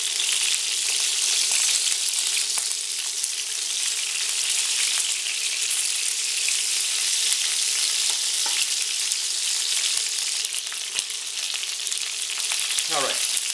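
Onions browning in a hot pan for a Greek stifado, a loud continuous sizzle with crackling spatter, a few soft scrapes of stirring near the end.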